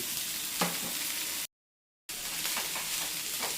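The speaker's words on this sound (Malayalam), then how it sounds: "ഇനി നമുക്ക് അരിഞ്ഞു വെച്ചിരിക്കുന്ന പയറിൻ്റെ ഇല ഇട്ട് കൊടുക്കാം" Chopped bean leaves tossed into an oiled frying pan, producing a continuous sizzling hiss with a couple of soft rustling thumps, cut by a short stretch of silence midway.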